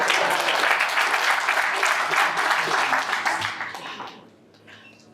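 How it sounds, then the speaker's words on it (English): A crowd at a book launch in a Rosebank mall bookstore claps hands steadily for about four seconds, then the applause fades out into quiet room tone. "Come on, he looks good. Clap hands."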